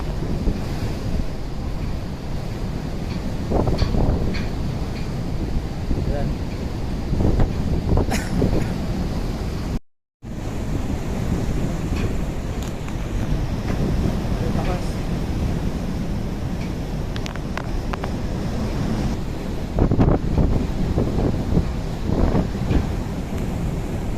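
Big waves surge and wash against a large ship at sea, with heavy wind buffeting the microphone in a continuous roar and repeated splashes of water, plus a momentary dropout midway.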